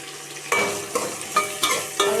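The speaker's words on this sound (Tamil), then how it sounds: "நல்லா வதக்கி விடுங்க." Shallots and green chillies sauté in a pan, a steady broadband sizzle broken by about five distinct scraping stirs at roughly half-second intervals, close and fairly loud.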